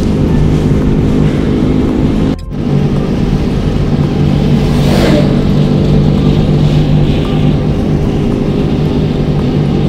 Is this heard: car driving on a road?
yes